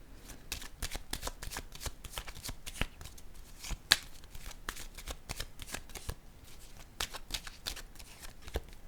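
Oracle cards shuffled by hand in a long run of crisp, riffling flicks and soft slaps, close and steady throughout with no voices.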